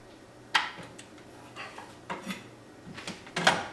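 A knife slicing vegetables on a cutting board, about a half-dozen sharp, separate chops spread across the stretch in a quiet kitchen.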